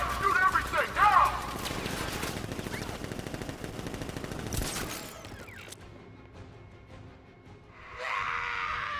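Gunfire in Batman: Arkham Knight: sustained rapid automatic fire rattles for several seconds amid screams and other battle noise, then fades to a quieter lull before another burst of noise.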